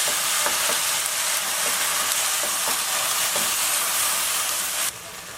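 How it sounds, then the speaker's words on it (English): Chopped tomatoes hit a hot pan of spiced curry soup base and set off a loud, steady sizzle and crackle, with occasional stirring scrapes. The sizzle eases off toward the end. "So add in the chopped tomatoes."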